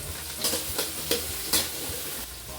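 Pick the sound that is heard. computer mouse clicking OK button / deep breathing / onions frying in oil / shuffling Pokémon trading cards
onions frying in oil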